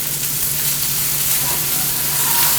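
Bánh xèo, a crispy crepe of shrimp, pork and wilted bean sprouts, frying in a non-stick pan, with a steady, loud, close sizzle and hiss that runs evenly throughout without talk.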